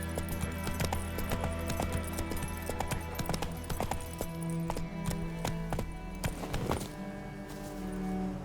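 Geralt's horse Roach clip-clopping at a steady trot in The Witcher 3, with rhythmic hoofbeats close by over a low ambient bed.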